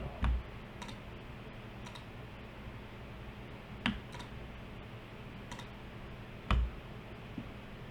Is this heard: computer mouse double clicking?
yes